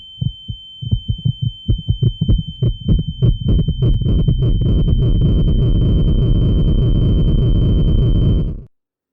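A pounding heartbeat effect, a steady run of deep, thudding beats that start spaced apart and speed up until they blur into a continuous roaring rumble, with a faint high tone held underneath, before it cuts off abruptly.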